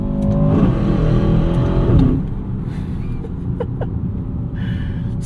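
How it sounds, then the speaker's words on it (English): Inside the cabin of a 2024 Aston Martin DBX 707 SUV, its 697 hp AMG-powered engine revs hard and loud for about two seconds, then settles into a lower, steady drone. "Such a grunty, angry noise from this thing too."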